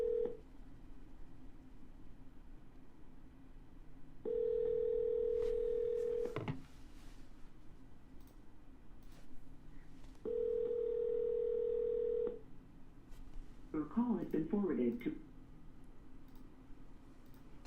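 A telephone ringback tone plays while a call to a home seller connects: two long, steady electronic tones, each lasting about two seconds and separated by a pause, over faint room noise, followed by brief rustling.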